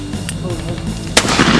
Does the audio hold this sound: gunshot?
yes